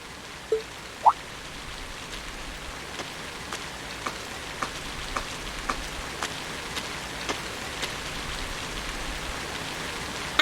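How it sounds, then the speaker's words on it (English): Soft, even patter of rain falling in Trails of Cold Steel, a steady bed of raindrops broken by regular faint ticks and a couple of sharper drips near the start. "I do apologize for stopping you on a rainy day like this."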